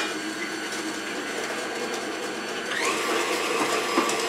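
An electric mixer beats whiskey blondie batter in a bowl, giving a steady, close whirring drone that gets slightly louder and rougher partway through, with faint scraping against the bowl.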